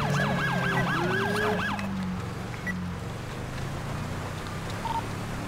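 An ambulance siren in GTA V wails in fast rising-and-falling sweeps for about two seconds, then cuts out, leaving engine rumble and background noise.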